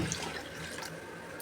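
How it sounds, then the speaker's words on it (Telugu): Tamarind juice pouring into a cooking pot of boiled festival prasadam, a steady close liquid splash and trickle like running tap water, continuous and fairly faint throughout with no talk. "ఇప్పుడు చింతపండు రసం వేసుకుందాం చింతపండు రసం వేసుకుంటున్నాను"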